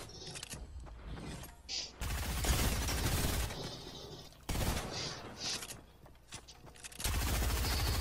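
Gunfire in the video game Fortnite during a multiplayer match with friends, loud bursts of rapid automatic shots in several stretches, with quieter gaps between them.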